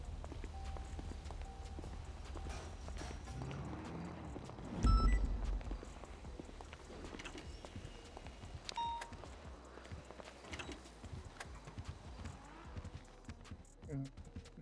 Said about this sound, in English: I'm gonna get a horse and buggy from now on.